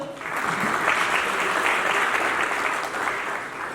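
A second round of applause from staff at an IIT Ropar meeting: a full, continuous crowd of clapping hands that swells early, stays even, and eases slightly at the close.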